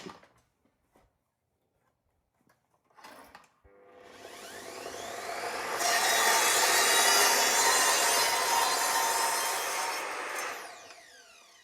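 A saw cuts through wood for the 45-degree leg braces of a tufting frame: a few short starting strokes, then a loud, continuous rasping cut that builds, holds and fades as it finishes.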